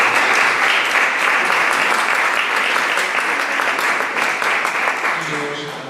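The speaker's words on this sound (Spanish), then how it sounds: "si queréis aplaudir" Lecture audience at an autumn course applauding the speaker, a loud dense burst of many hands clapping that slowly thins and fades toward the end, with a few voices underneath.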